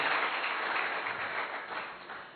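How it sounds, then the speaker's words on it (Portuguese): A church congregation applauds in a steady, dense wash of clapping that holds fairly even for a couple of seconds and eases slightly toward the end. "Uma salva de palmas ao Senhor"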